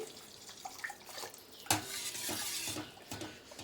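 Cooked lentils and their cooking water are poured into a pot of simple no-garlic rasam, giving a sudden splash followed by a steady pouring and sloshing, with faint utensil clinks nearby and no talking.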